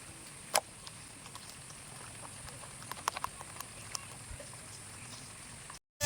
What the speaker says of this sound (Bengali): আমাদের এখানে বৃষ্টি হচ্ছে